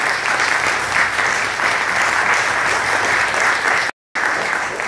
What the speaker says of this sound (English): let's give a round of applause to those who made this possible